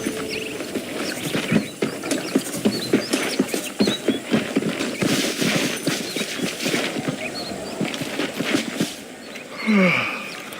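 A horse's hooves clip-clop in a steady rhythm on the ground in Red Dead Redemption, fairly close and continuous for several seconds, ending with a short snort or whinny.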